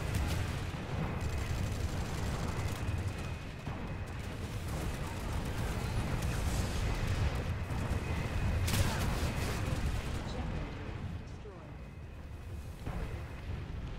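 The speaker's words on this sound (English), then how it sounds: "We're gonna throw some grenades." Grenades going off in a multiplayer shooter game: a dense, continuous roar of blasts and gunfire-like rumble, with no clearly separated bursts, loud throughout.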